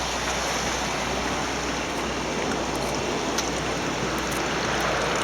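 Steady, continuous rush of river water at a diversion dam on the Weiser River, a dense broadband roar with no pauses, close and constant throughout.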